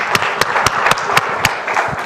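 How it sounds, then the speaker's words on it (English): A short burst of applause from a small group at a school board meeting, with distinct claps repeating in an uneven rhythm, close and fairly loud. "Now we can give them a big round of applause."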